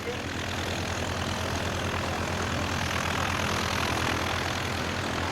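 A vintage Foxmoth propeller aircraft flying at an evening air display, its engine drone steady, loud and continuous throughout with no speech over it.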